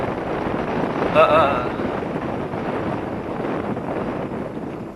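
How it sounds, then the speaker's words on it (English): Steady wind rushing over the microphone on a small sailboat during its maiden sail, a constant broadband roar with a brief gust and a faint whistling tone near the start. "Keep blowing, wind."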